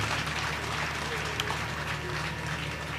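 Audience applause at a Lucknow Urdu poetry mushaira, a steady wash of clapping from a large crowd sustained evenly throughout, fairly quiet and distant.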